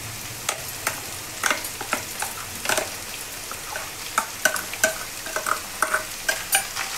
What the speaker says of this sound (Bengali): মাংসটা একটু ভাজা হয়ে গেছে